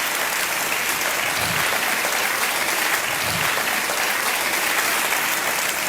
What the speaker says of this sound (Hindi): तालियों के साथ इनका अभिनंदन किया जाए